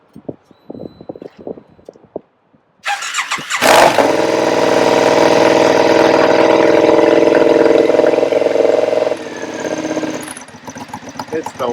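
A Triumph Scrambler motorcycle cranks over and fires up on a cold morning, then settles into a loud, steady running roar close by with a brief rev, and people talk before and after it.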